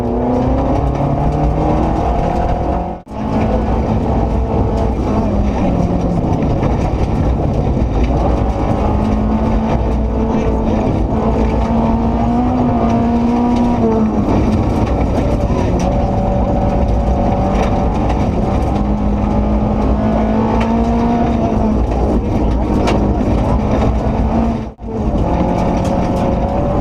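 A rally car races flat out along a stage road at Rally Colorado, its engine loud and close throughout, rising and falling through gear changes, with two brief cuts in the sound.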